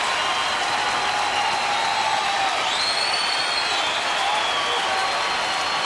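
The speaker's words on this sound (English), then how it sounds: "Very enthusiastic crowd ready for this one." A crowd at a Charlotte at Houston baseball game murmurs and cheers steadily in the stadium, a broad, even roar with scattered applause and distant whistles rising over the background.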